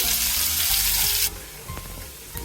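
Onion frying in hot oil for a mixed pasta dish gives off a loud, dense, close sizzle. It drops abruptly partway through to a quieter crackle with a few light clinks.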